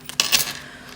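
Coins handled up close, a quick bright jingle of a few metallic clinks within a second.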